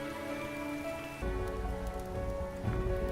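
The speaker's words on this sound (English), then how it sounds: "And it's raining little star bits." In the Starbound video game, a patter of rain-like falling star bits rattles steadily over a sustained tonal game soundscape, with a low rumble surging in midway.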